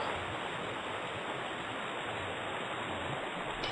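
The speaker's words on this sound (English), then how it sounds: "there's the waterfall" A waterfall in the MNOG video game rushes as a steady, broad hiss of falling water, even and unbroken, with no voices.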